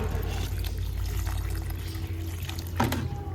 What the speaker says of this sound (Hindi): प्लांट को पानी देते हैं तो हमें इसको पॉट ऊपर तक भर के देना चाहिए पानी